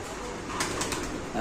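A racing pigeon, one of the Lahori birds at a pigeon sale, gives a brief coo with a soft flutter close by, partly masked by steady background noise and a voice nearby.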